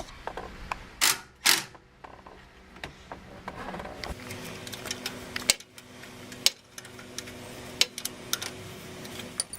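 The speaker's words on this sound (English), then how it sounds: "The next step is to loosen the alternator bases a little bit to take off the dry belt" Alternator mounting bolts loosened with a hand tool to free the drive belt: intermittent metallic clicks and ratcheting ticks, a couple of louder scraping bursts early, over a low steady hum.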